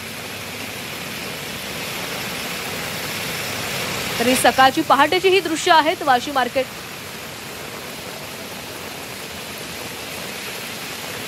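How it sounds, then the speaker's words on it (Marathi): Heavy monsoon rain in Navi Mumbai around the flooded Vashi market at early morning, a steady broadband rush of rain and water throughout, with a person talking briefly in the middle. "नवी मुंबईला देखील पावसानं झोडपून काढलेलं आहे"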